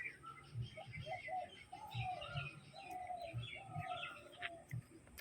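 Young pigeons in a loft coo in a steady rhythm of low, repeated throaty pulses, with scattered chirps from other birds layered over a quiet background.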